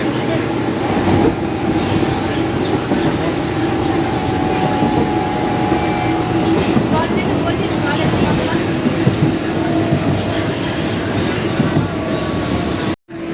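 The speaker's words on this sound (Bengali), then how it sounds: "এখন আমাদের ট্রেনটা ঢুকে গেলো বইরা কালীবাড়িতে" A train pulls into Boira Kalibari station, a steady loud rumble of wheels and carriages with faint rhythmic clatter throughout, fading abruptly at the end; voices are faintly present.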